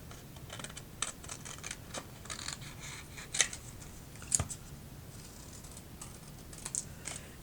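Scissors cutting card paper pieces, a series of quiet, close snips and scratchy crunches at irregular intervals, with a few sharper clicks standing out and no talking.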